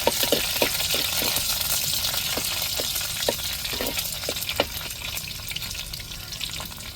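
Hot oil sizzles steadily with sharp crackles and pops as curry leaves fry with onions for fish curry, a continuous hiss broken by irregular spitting bursts.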